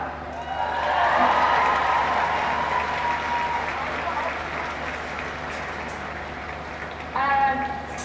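A crowd at a ladies' Gaelic football county final celebration breaks into sustained applause and cheering, loud and dense throughout, with a fresh burst of whoops near the end.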